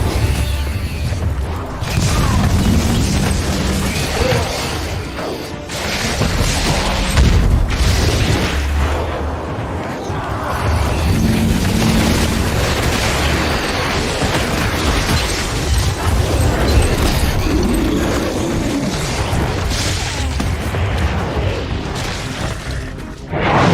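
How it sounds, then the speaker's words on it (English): Orbital lance strike explosions in Warhammer 40,000: Inquisitor, a continuous barrage of heavy booms and crashing blasts that rumble loudly and steadily for over twenty seconds with no talk. "Firing solution is ready. Orbital lance discharging."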